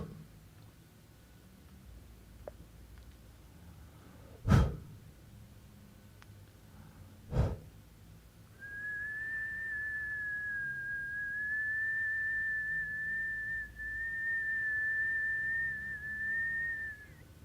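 A person whistles one steady, sustained high note for about eight seconds, faint and alone, after two sharp knocks in an otherwise quiet room.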